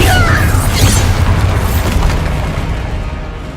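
Bombarda spell explosion in Hogwarts Legacy amid a duel of spells, a loud, deep boom that rolls on and slowly fades across a few seconds.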